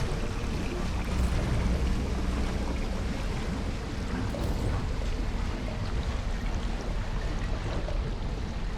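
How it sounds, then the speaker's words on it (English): Water draining from an area in the video game Remnant 2, a dense, continuous rushing and pouring wash that stays loud and steady throughout without pauses. "this will drain the water even more from this area over here"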